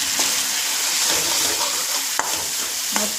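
Eggplant and potato curry with onion-garlic masala, mixed masala and chili powder being stirred as it fries in oil, a soft continuous sizzle with a few sharp spoon scrapes and taps against the pan.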